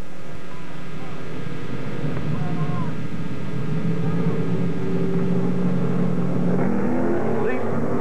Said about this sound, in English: And here comes the pack. 60 cars, the last half mile under wraps